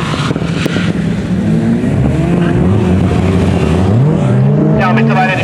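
A rally car races past at a rally sprint in Straubing, its loud engine droning steadily and shifting pitch as it goes by, while an announcer talks over it throughout.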